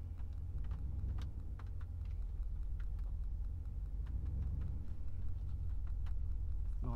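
A Dodge Ram 1500 4WD crawling slowly off-road, a low steady engine rumble heard from inside the cab with faint scattered ticks and knocks, continuous and without talk.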